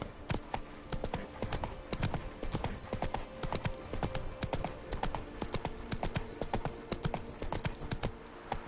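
Hooves pound in a fast, continuous galloping rhythm, close and even throughout, as a horse runs in The Witcher 3: Wild Hunt.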